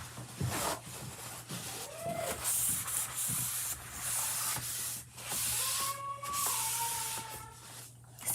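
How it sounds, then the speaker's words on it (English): A spray bottle spritzes water onto chalk paste on a board in several quick hissing bursts, close by and moderately loud, with light handling noises between them. "There's still a lot of paste on here, so I am going to spritz it with more."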